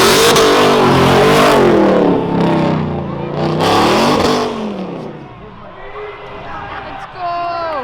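A supercharged, straight-piped Ford Raptor pickup at a rural town event revs hard in loud, roaring bursts that rise and fall, then settles into a rougher rumble, with a crowd faintly audible beneath.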